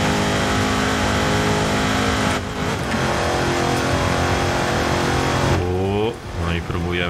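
A car engine in Forza Horizon 5 straining up a volcano road, a loud sustained drone with gear shifts and revving surges, with someone talking over it.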